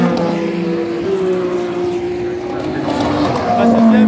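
Le Mans endurance race cars, a Porsche and a Ferrari, roar past on track at the 2025 24 Hours, a steady loud engine drone with rising and falling pitch as they pass, swelling louder toward the end.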